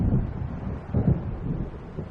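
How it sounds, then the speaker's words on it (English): Stormy weather rumbles through Alan Wake Remastered, with low rolling thunder swells and steady wind noise filling the scene, strongest around the middle, with no voices. "It seems there's a storm coming."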